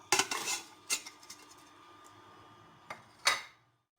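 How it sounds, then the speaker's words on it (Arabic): A cooking pot is handled while a large chopped onion goes into it, with a few sharp metallic clanks and scrapes separated by quieter stretches, close and alone. "غادي ناخذ الطنجره وندير فيها بصله كبيره مشلضه"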